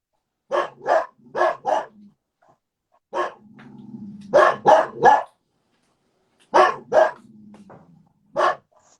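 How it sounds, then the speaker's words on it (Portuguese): Dogs bark loudly and close by in short bursts of two to four barks, with low growling between bursts and pauses of silence. "Os cachorros já, né?"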